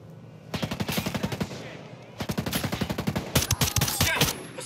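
Assault rifle fire in Ghost Recon Breakpoint: rapid automatic bursts of evenly spaced shots, loud and close, one long run, a short pause, then more sustained fire with brief voices underneath.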